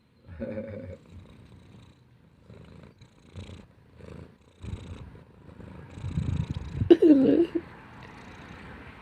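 A pet cat purrs up close at a low, steady rumble, building louder toward the end, with brief quieter speech earlier in the stretch.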